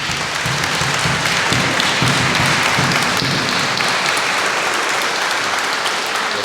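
A church congregation at a Pentecost service applauds new members, with a steady, full round of clapping throughout.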